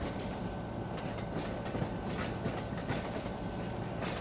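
A train rumbles steadily along in the Trainz Android game, Indian Railways Kakatiya Express, with continuous rolling noise and faint rhythmic wheel clatter, alone and fairly loud.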